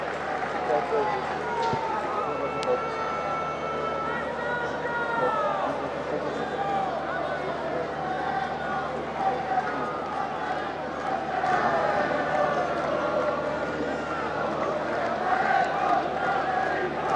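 Vocal home crowd cheering and shouting at a Fiji v Italy rugby match in Sicily, a dense continuous roar of many voices at moderate distance, with a commentator talking over it.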